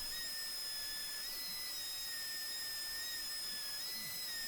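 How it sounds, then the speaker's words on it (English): A detail sander works over an old wooden dining chair, giving a steady high-pitched whine with shifting tones as it is pushed across the tough finish, continuous and unbroken with no voices. "even with the detail sander, it's kind of taken quite a, more than one pass to get this stuff off"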